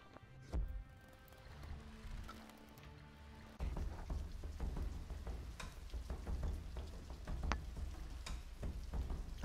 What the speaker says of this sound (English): All right, it's raining.